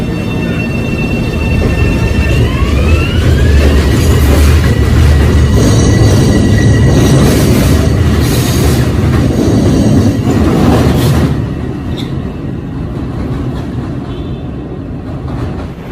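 A Bombardier M7 electric commuter train of the Long Island Rail Road or Metro-North runs loudly past, with rumbling wheels, clickety-clack, a rising motor whine and some squealing before the noise drops off toward the end.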